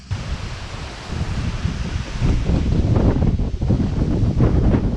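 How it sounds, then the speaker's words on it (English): Strong wind gusts at a mountain bike trailhead in the Colli Euganei near Padova, Italy buffet the microphone, a loud rushing roar that swells and surges unevenly, growing heavier partway through. "it's so windy"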